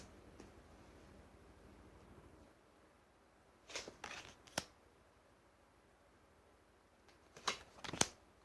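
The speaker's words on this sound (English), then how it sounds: "I'm getting the vibe just to shuffle once." Soft crisp riffling bursts of tarot cards being shuffled, a few brief clusters separated by quiet pauses, close up with faint background hiss.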